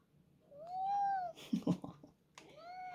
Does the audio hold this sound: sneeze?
no